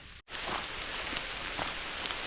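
Steady hiss of rain falling on a surface during a thunderstorm on a mountain trail, soft and continuous, with a brief dropout near the start and no talking.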